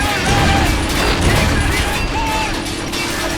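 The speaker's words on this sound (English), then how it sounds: "That was a beautiful explosion." An explosion in a tank video game produces a loud, dense wash of rumbling blast and crackling debris that fills the whole moment.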